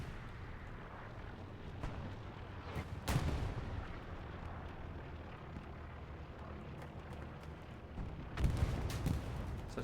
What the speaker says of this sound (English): Toasty also dies by the artillery